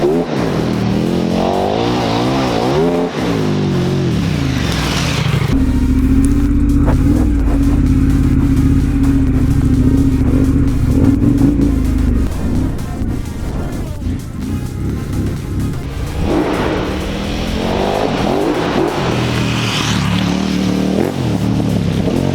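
A 2018 KTM 1290 Super Adventure R motorcycle rides off-road with a loud, continuous engine roar, its revs climbing and falling as it accelerates and shifts, close to the microphone.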